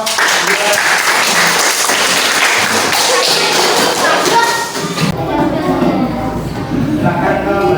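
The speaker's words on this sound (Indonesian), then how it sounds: "tepuk tangan untuk kelompok" Classroom group applause at a teacher performance assessment session, dense clapping from a room of participants filling the first five seconds, then cut off abruptly, leaving a quieter tail with some background talk.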